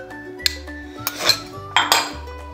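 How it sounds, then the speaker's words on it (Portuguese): Metal utensil scraping and clinking against a bowl while mixing butter into onion cream biscuit dough, with several sharp clinks and scrapes heard up close and no speech. "Aí você vai mexendo aqui, ó, até agregar bem."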